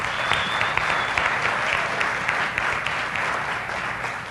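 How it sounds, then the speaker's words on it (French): A church congregation claps for newly presented deacons at a Sunday service, a dense and continuous round of applause close by with no speech over it. "On peut les applaudir."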